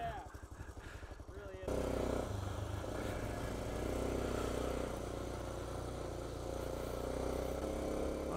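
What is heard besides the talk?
motorcycle engine passing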